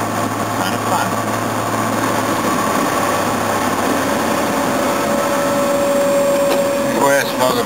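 Car engine while driving at night in fog, a steady loud interior drone with road and air noise throughout, a faint rising whine near the end, and someone talking over it.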